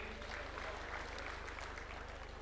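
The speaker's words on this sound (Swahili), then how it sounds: "Tuko hapa na wanachama wa chama cha Chap Chap wako kati yetu, tuwapigie makofi." Applause for party members at a party delegates' conference held at State House, a steady, dense clapping that fills the whole moment with a faint low hum beneath it.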